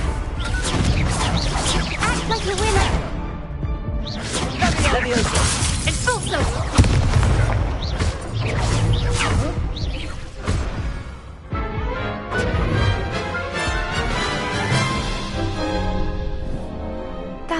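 Spell blasts from Hogwarts Legacy, including Expulso and Confringo, crash and burst in repeated loud explosive hits with whooshes. A dense mix of impacts runs throughout, with game speech calling out spells over it.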